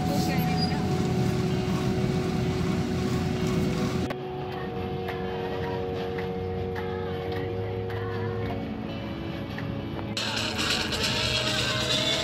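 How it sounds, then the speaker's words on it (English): A Coaster minibus on a road trip toward Kalar Kahar Lake in Pakistan gives a steady, loud engine drone and road rumble throughout, with a brief shift in tone midway; speech is faint. "Now, today I'm driving the coaster."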